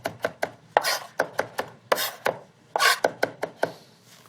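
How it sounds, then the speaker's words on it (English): Carrots are chopped on a board with a blade that was once a woodworking tool, giving a close, brisk run of sharp knocks and a few longer scraping strokes, with no talk. "And we'll continue to chop this up."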